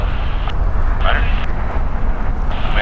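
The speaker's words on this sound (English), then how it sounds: "Landing on the north side is United Airlines Flight 1224 coming in from Chicago" United Airlines Boeing 787-10 Dreamliner landing on the north side at LAX, arriving from Chicago: a steady, loud broadband jet roar running throughout, with a voice speaking over it.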